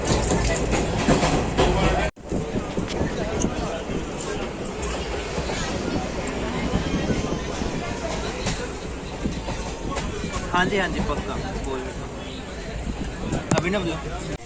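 Uttarbanga Express pulling out of Dum Dum Junction, a steady loud rumble and rattle of carriages heard from inside the train, with a brief dropout early and talk continuing over the rolling noise.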